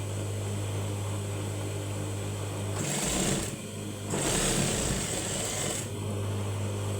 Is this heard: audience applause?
no